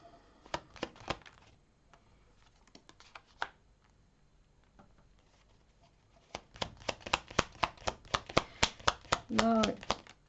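Tarot cards shuffled for a reading, sharp close slaps and riffles in quick irregular clusters, sparse at first then denser and louder toward the end, with a brief voice near the close.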